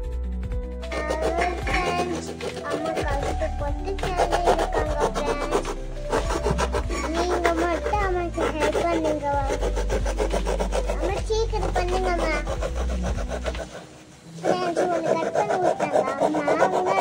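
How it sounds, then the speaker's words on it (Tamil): Scissors or a blade work steadily through cardboard, cutting out a drawn circle for a Christmas door decoration, a continuous rasping scrape under music and a speaking voice. "இப்போ ட்ரா பண்ண சர்க்கிளை நம்ம வந்து உள்ள ஒரு ஓட்டை வர மாதிரி கட் பண்ணி எடுத்துக்கிறோம்."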